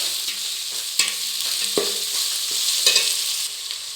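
Jackfruit biryani ingredients sautéed in a pan, a bright, steady close sizzle broken by several quick scraping stirs of the spoon, with no voices.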